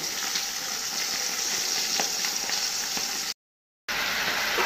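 A light curry of tomato and potato simmers and sizzles in a pan, a steady bubbling hiss with small pops that cuts out abruptly for a moment before resuming.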